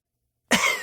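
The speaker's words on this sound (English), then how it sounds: "Talia coughs dramatically" An audiobook narrator performs a dramatic cough: one sudden, loud, harsh burst close to the microphone after silence, trailing off raggedly.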